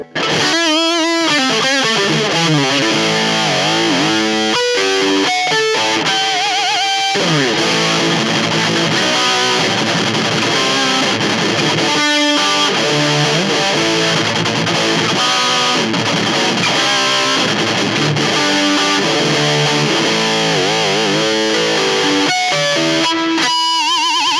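An electric guitar played through a Marlin 10L combo amp from the 1980s, with every control turned up to full, gives a loud, heavily distorted sound: continuous riffs and chords with no pauses and no talk over them.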